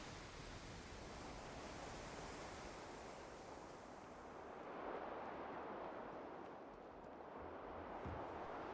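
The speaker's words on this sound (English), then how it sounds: "Oh, the ocean sounds are quite cool." Soft, continuous video game surf in Starfield washes in a broad hiss, gently swelling and receding, with a faint breeze. No voices.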